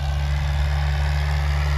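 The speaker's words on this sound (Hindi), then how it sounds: "और ये आ गया हमारा ट्रैक्टर" A farm tractor's diesel engine idles steadily nearby at a wheat field, a deep, even rumble with no change in pitch and no voices.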